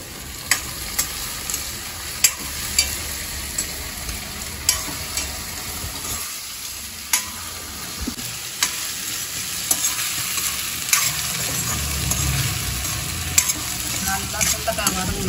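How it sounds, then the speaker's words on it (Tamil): Crushed turkey berries sizzle and crackle steadily in a hot pan, with occasional sharp clicks and scrapes of stirring. "இந்த சுண்டைக்காய் நசுக்கி வச்சுக்கிட்டு எடுத்து போட்டு நல்லா வதக்கணும்."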